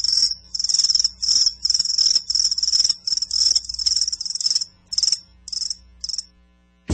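Loud, steady cricket chirping rolls in quick pulsing bursts that thin out toward the end, closing with a sharp cut in a radio advertisement.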